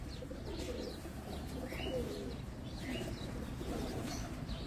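Faqir Gol pigeons coo softly on an Abu Dhabi rooftop, a low continuous murmur with occasional higher chirps scattered over a steady background.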